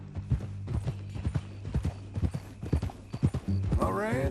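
Horse hooves clip-clop in Red Dead Redemption 2, a steady rhythmic trot of sharp thuds with faint tack creaks, while people talk over it and a voice rises near the end.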